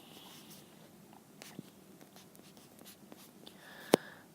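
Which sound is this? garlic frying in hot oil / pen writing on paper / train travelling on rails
pen writing on paper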